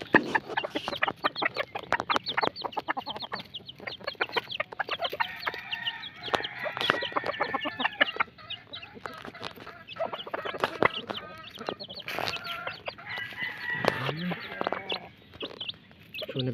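Chicks peck and cluck nonstop at feeding time, with dense overlapping peeps and chirps and some fowl clucking mixed in, close and moderately loud throughout.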